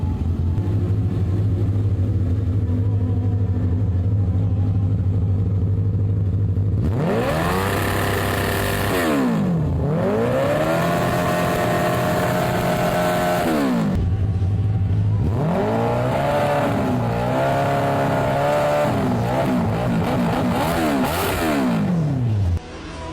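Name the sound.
go-kart with motorcycle engine revving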